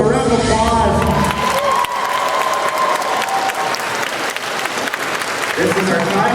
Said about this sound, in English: All right, guys, give them a round of applause.